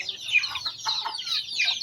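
Pet chickens cluck in short, close, repeated bursts, a quick series of clucks and chirpy calls over quiet surroundings.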